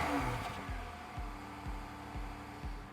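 A 1995 Rover 827 police car with a 2.7 V6 idles quietly and evenly, its low engine note softly pulsing in a regular rhythm and heard alone.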